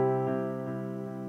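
A straight piano tone on a Nord Stage 2 EX keyboard rings with a delay effect, the note repeating softly and decaying in quick echoes, quiet and without voices.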